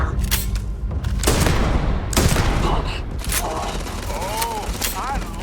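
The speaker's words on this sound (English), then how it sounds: "Taking suppressive fire." Heavy in-game gunfire from Starfield, dense bursts of shots and booming blasts in a sustained firefight, loud throughout.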